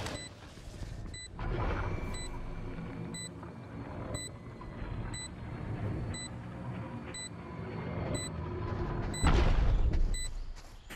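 In Valorant, the planted spike's steady electronic beep repeats at regular intervals over continuous game noise and a low mechanical hum.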